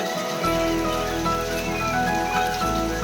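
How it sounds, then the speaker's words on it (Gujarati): Heavy rain pours down in a steady, dense hiss that runs for the full few seconds. A low, continuous tonal hum sits underneath it, and no one speaks. "ફૂલ વરસાદ ચાલુ."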